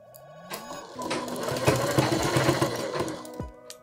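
A sewing machine stitching a half-collar blouse, whirring in a fast continuous run close up for a few seconds, slowing briefly, with no speech over it.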